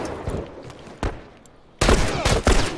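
Semi-automatic gunfire in the video game Frontier Power: a few sharp, separate shots early on, then a quick, loud close burst of rapid reports near the end.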